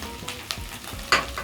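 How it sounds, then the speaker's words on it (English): Pork searing in a pan gives a steady sizzle broken by a few sharp stirring scrapes, close and alone. "So as my pork sears, I'm going to add my spices."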